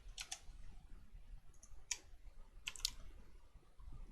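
Keys clack on a computer keyboard while text goes into an Excel spreadsheet, a few quiet, close bursts of clicking separated by short pauses.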